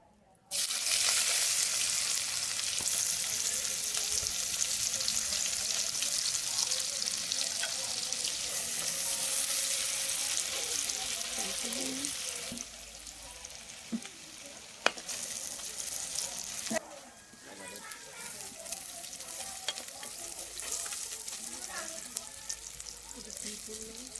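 Onions fry in hot oil for beresta, a steady loud sizzle running nearly the whole time with occasional stirring clatter and a brief dip partway through.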